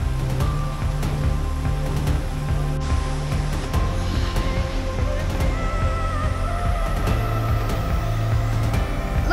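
Steady, dense roar of rushing water from the terraced lakes and waterfalls of Plitvice Lakes National Park in Croatia, continuous and fairly loud throughout with no voices, and a faint tonal layer running underneath.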